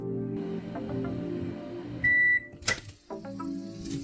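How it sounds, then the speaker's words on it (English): A microwave oven cooking a bag of green beans hums steadily, then a single beep sounds, followed by a clunk of the door and the hum resuming. "Place bag in microwave."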